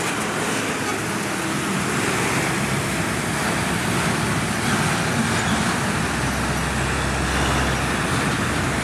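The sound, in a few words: heavy road traffic with cars and large trucks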